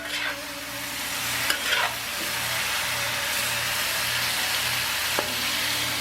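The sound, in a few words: stir frying broccoli and shrimp in a pan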